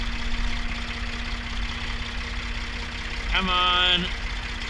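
A tractor engine idles with a steady low rumble while backing a wagon toward a grain auger with dry corn, someone speaking briefly over it.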